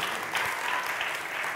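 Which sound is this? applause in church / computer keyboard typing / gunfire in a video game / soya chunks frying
applause in church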